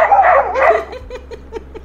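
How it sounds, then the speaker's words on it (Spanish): Household dogs bark in quick close yips and barks, loud at first and then trailing into a string of shorter, fainter yaps. "siempre están mis perros ladrando"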